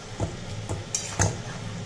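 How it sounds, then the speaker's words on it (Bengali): Mutton is sautéed with spices in a pan. A few scraping stirs fall at about 0.25 s, 0.7 s, 0.95 s and 1.25 s over a low, steady sizzle, close and moderately loud, with no voices. "মশলার সাথে মাংসটা খুব ভালো করে কষিয়ে নেবো।"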